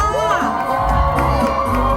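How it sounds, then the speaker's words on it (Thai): A Thai fan meeting crowd cheers and shouts loudly and steadily throughout, with whoops and excited high voices over a dense roar that stays near and sustained. "ขอ เสียงปรบมือด้วยค่ะ"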